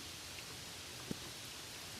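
Gentle rain falls as a soft, steady hiss with faint scattered drops and one small tap, quiet and even throughout.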